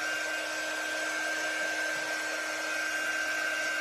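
A hair dryer drying freshly painted letters blows as a steady, loud, continuous whooshing hum with a thin whine running through it and no breaks or talking.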